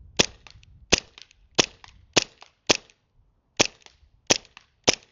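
A CO2-powered airsoft pistol fires eight sharp, loud cracks at uneven intervals of about half a second to a second during a 50-foot headshot test, each followed by a faint distant impact tick.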